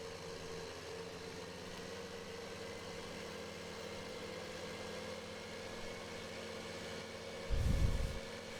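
A tractor idles steadily in Farming Simulator 15, a constant low engine drone throughout, with a brief louder thump near the end.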